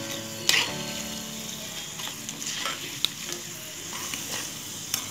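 Curry leaves and tempering seeds sizzle in hot oil for a red chilli and tomato pickle, with a continuous frying hiss and a few clinks and scrapes as the mix is stirred, close by with no voices.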